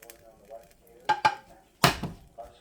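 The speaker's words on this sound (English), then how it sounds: "Now it's time to put the hamburger meat on top" A spoon clinks and scrapes against a dish as hamburger meat is spooned onto a taco-style casserole, a few sharp knocks and one louder clatter spaced apart in a quiet kitchen.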